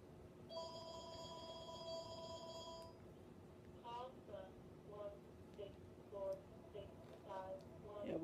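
An electronic telephone rings with a steady warbling tone for a few seconds, then stops as people talk nearby in a casual indoor setting.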